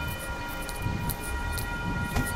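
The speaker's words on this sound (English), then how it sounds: "You gotta wait till the train go out" A train passing on a city street, a steady rumbling roar with sustained whistle-like tones and a few sharper clanks, loud and constant.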